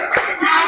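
Classroom clap chant about the human movement system: a few sharp, close hand claps in quick succession, loud and brief, with a voice faintly underneath.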